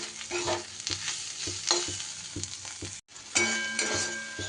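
Spiced masala with Kashmiri chili powder stirred in a frying pan, heard as steady close scraping strokes of a spoon over a soft sizzle, with a brief cut of silence midway, no talk.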